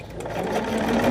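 A sewing machine stitches in a steady, fast mechanical chatter, close and continuous, with no talk over it.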